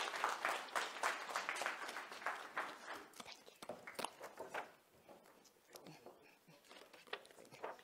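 A panel discussion audience gives a round of applause that starts busy and fairly strong, then thins into scattered claps and shuffling, with soft voices and movement mixed in toward the end.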